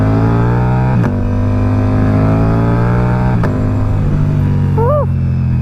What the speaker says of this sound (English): Oh, that is a nice sounding bike.